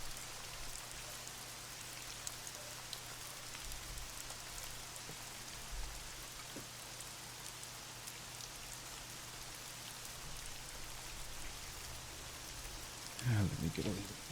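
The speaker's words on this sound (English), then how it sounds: "How is the sound of the rain compared to my voice?" Rain falls steadily and softly as a faint, even wash, with a low hum underneath and a short rustle near the end.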